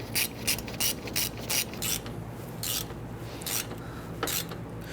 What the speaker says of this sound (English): go ahead and hook up your ratchet and snug it down